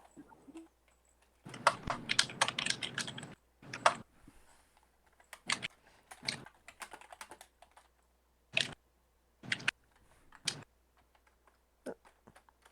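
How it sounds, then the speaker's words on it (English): A cat's tail swishing across a computer keyboard, setting off bursts of rapid, irregular key clatter with pauses between them, close and fairly quiet, with no talking. "She was hitting my keyboard with her tail."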